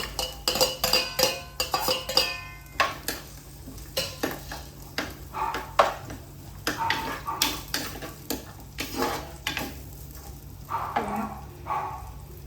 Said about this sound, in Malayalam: അതിനകത്ത് ഒരു 6-7 ചെറിയ ഉള്ളി അരിഞ്ഞതും ഒരു കഷ്ണം ഇഞ്ചി അരിഞ്ഞത് അത് ഇട്ട് കൊടുക്കേ